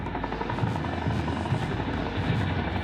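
A Chinook helicopter flying over high-altitude terrain in Ladakh near the Siachen Glacier, a steady loud rotor drone with a low rhythmic chop that stays even throughout, with no voices.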